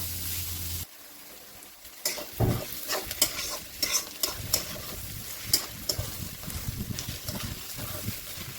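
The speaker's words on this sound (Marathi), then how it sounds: "तेल गरम झालं आहे त्यात आपण कांदा सोडूया कांदा मस्त खरपूस उसर आपण त्याला भाजूया" Onion dropped into hot oil and frying for a Maharashtrian whole masoor dal, a loud broadband sizzle kicking in after a quiet start, then steady crackling with irregular stirring scrapes throughout, close up and with no talking.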